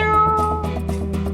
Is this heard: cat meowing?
yes